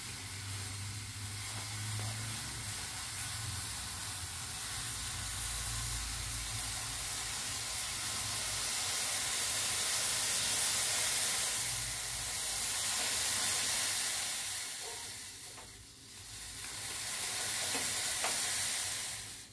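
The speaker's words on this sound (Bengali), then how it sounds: "চাটা ফুটছে।" Ginger and cardamom tea boiling in a pot gives a steady, close bubbling hiss that swells and dips slightly over the whole stretch, with no voices.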